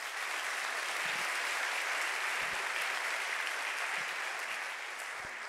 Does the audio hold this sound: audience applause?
yes